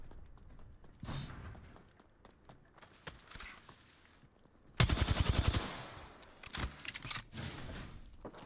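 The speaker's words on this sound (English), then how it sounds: "Shots fired and they're hitting me." Video game gunfire: scattered single shots first, then a loud rapid burst of shots partway through, followed by further clusters of gunshots.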